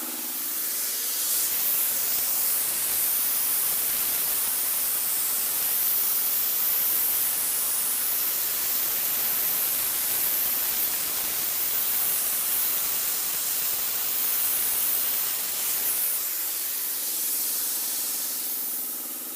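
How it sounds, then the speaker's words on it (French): Compressed-air sandblasting at about 3 bar makes a loud, steady, close hiss of air and abrasive that starts abruptly, runs continuously for about fifteen seconds and then stops, with no talk. "Donc là, on sablait. On sablait à peine à 3 bars."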